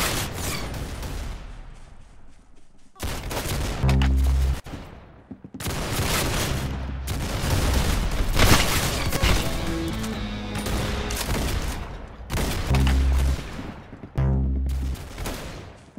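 Rapid gunfire bursts in the online shooter game Arsenal, loud automatic volleys and single shots separated by short silences, with clicking mechanical sounds between them.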